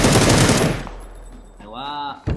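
A loud burst of rapid video game gunfire opens, trails off into a noisy tail, then a short tonal, voice-like sound follows.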